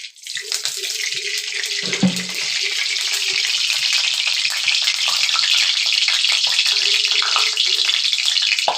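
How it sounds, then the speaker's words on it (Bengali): Oil sizzles loudly in a hot kadai with a continuous bright crackle and hiss, a brief clatter near the start, then a sustained close sizzle with no talking. "কড়াই গরম হয়ে গেছে। এখানে দিয়ে দিচ্ছি আমি তেল।"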